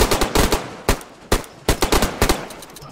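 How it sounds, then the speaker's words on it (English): Bursts of gunfire in a zombie video game crack out loud and close, a dozen or so sharp shots in uneven clusters and quick rapid strings over three seconds. "Open fire, open fire, open fire, open fire"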